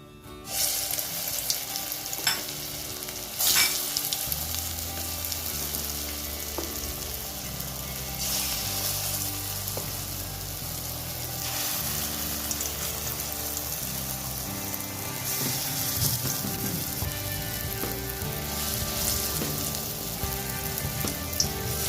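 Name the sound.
frying lentil fritters (dali bora) in hot oil in a wok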